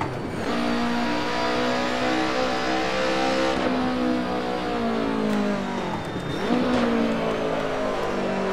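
Race-prepared BMW in Assetto Corsa lapping the Nürburgring Nordschleife, its engine droning steadily through long rising gear pulls with two sharp downshift dips and brief tyre scrubbing, loud and close throughout with no talking.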